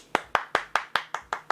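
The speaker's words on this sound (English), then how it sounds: "Claps for that one." Eight sharp hand claps land in a quick, even rhythm, each one crisp and close with a short decay. No voices come in between the claps.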